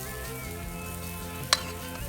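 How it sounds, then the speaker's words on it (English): Squash and zucchini sizzle on a hot summer grill, a steady close hiss with a single sharp pop near the end. "These squash and zucchini are one of my favorite ways to grill vegetables during the summertime."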